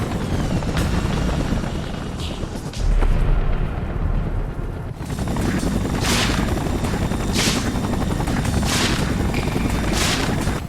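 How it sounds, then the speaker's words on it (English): A helicopter in the Spider-Man 3 PC video game roars loudly and steadily, its rotor and engine noise thick and continuous, with rhythmic bursts of higher hiss cutting through. "Gotta stop the chopper from hitting the street."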